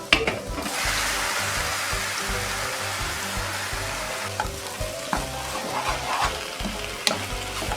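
Ivy gourd leaves tossed into a hot pan, frying with a steady loud sizzle while being stirred, with scraping strokes clattering now and then for cleanup of a low-carb bento dish.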